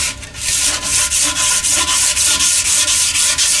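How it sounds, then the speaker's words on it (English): Scuff pad or abrasive rubbing back and forth over the barrel of a chrome wheel as prep for paint, a steady, close scratchy scrubbing with regular strokes heard alone. "just over this area to scuff it up"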